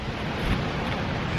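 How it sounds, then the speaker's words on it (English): Strong gusty wind after rain sweeping over a house roof where Christmas lights are being hung on the shingles, a loud broadband rushing roar buffeting close to the microphone. "it's super windy right now"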